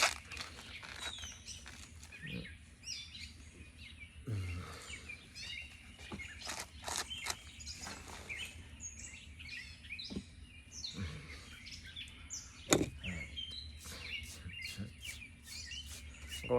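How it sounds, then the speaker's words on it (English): Songbirds chirp and call outdoors in a quiet, peaceful yard near a feeder, with short tweets and trills repeating irregularly at moderate distance over a low background hum. "The sound of birds is"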